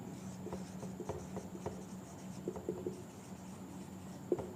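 Marker or chalk writing on a board during a Hindi thermodynamics lecture, a steady run of soft scratchy strokes and taps over a faint room hum, heard close with no talking.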